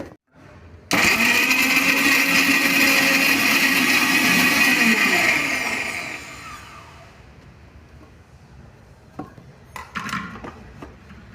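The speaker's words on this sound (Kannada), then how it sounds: "ಬರೀ ಮಿಕ್ಸಿಗೆ ಹಾಕ್ಕೊಂಬರೋಣಂತೆ." A loud mixer grinder whirs steadily for several seconds blending spicy green chilli chutney, then winds down and stops, followed by a few small clinks and handling noises.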